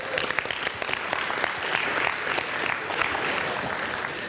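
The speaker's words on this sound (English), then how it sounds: "Can we give him a round of applause?" Dense, sustained applause from a conference audience for a speaker, steady and loud throughout with no voices standing out.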